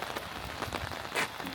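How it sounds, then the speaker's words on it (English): Heavy rain pouring down during a trip to a car show at Wörthersee, a dense steady hiss of drops on surfaces with a brief louder splash near the end and no talking. "it's pissing down with rain."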